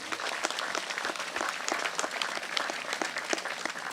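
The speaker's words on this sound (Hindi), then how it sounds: "ताली बजाते हुए प्रभु का धन्यवाद करिए" A church congregation at a healing prayer service applauds in thanks, many hands clapping in a steady, dense patter that fills the whole stretch at even loudness.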